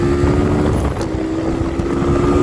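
A dual sport motorcycle is ridden at speed, with a steady engine hum and a sustained tone under heavy wind buffeting from close to the rider.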